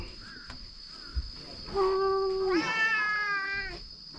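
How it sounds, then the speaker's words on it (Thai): A cat meows twice outdoors at a lakeside cliff campsite, a clear drawn-out cry followed by a longer wavering one, fairly close over a steady insect hum. "เหมียวน้อยตัวใหญ่ชมัดเลย"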